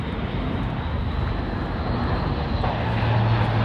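Military transport aircraft with four 1100 shaft horsepower engines flying a tactical airshow demonstration, a steady loud engine roar holding throughout with a low drone rising near the end.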